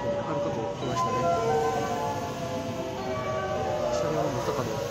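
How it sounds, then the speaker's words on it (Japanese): A Haruka limited express train to Kansai Airport rumbles steadily into Ueno station with a continuous low roar and screeching wheels, under the sound of a person talking nearby. "はるか号来ましたね。"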